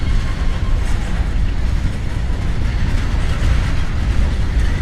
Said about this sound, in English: SD70 ACE leading this train